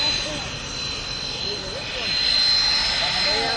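A jet airliner departs Manchester Airport bound for Faro, its engine roar steady and fairly loud, swelling slightly toward the end, with a faint person's voice nearby.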